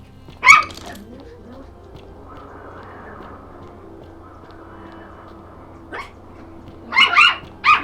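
Dogs barking excitedly in short sharp bursts, one at the start and a cluster near the end, with a murmuring low background between.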